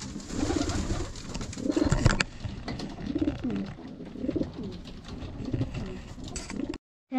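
Several pigeons coo close by in a loft, their low, throaty, repeated calls overlapping in a continuous rhythmic murmur before cutting off near the end.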